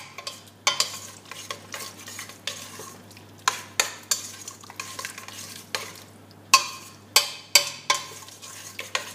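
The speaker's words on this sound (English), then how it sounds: "going to stir it all up" A creamy spinach, oil and cheese filling for a filo spinach pie is stirred in a pan, with repeated sharp utensil scrapes and clicks in an uneven rhythm over a faint background hiss.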